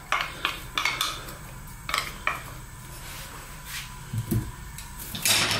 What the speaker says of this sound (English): Let's start off by putting in our onions.